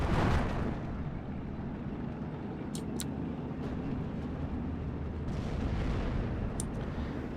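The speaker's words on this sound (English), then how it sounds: "Stug's still firing at infantry for the time being" A StuG assault gun firing at infantry in the wartime strategy game Steel Division 2 sends out a heavy, rumbling boom at the start, followed by a continuous roar of distant battle with a few faint sharp cracks.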